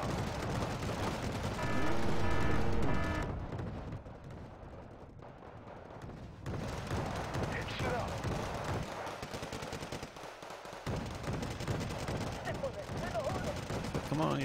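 Gunfire in the Wargame Red Dragon video game: dense, sustained bursts of automatic fire and heavier booms, loud and continuous with a brief lull, with someone talking over parts of it.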